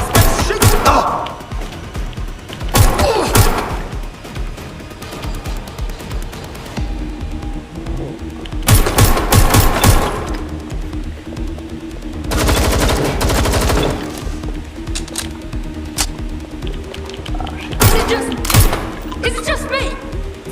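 Gunfire in the video game Watch Dogs Legion, loud bursts of rapid shots at about 0, 3, 9, 12.5 and 18 seconds, separated by quieter game sound, with talk nearby.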